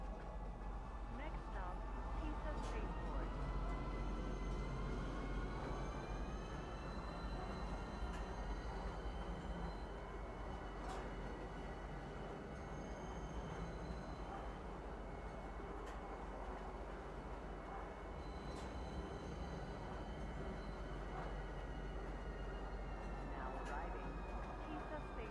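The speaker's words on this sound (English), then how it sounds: "This is kind of a longer train ride" Train ride in the Star Citizen video game carries a quiet, continuous rumbling hum that stays even throughout with faint higher tones above it.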